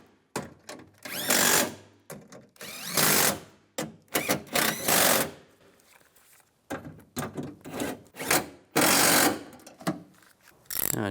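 Nut being tightened with a power tool or ratchet on a 2002-2008 Dodge Ram 1500 window regulator, a series of short, fairly loud buzzing bursts with brief pauses between them, close up.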